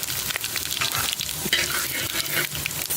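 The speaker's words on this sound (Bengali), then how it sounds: "তেল গরম হয়ে গেছে দিয়ে দেবো গোটা জিরে আর তেজপাতা" Whole cumin seeds and bay leaves frying in hot oil, a steady bright sizzle with occasional crackles and stirring scrapes, close and continuous with no voices.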